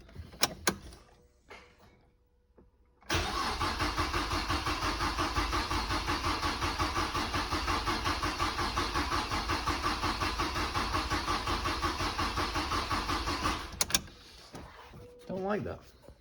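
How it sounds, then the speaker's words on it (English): A Mazda MX-5 NC with a freshly rebuilt engine cranks, catches and runs loud and steady for about ten seconds before cutting out, with a few clunks before and after. "I actually got the engine running by accident."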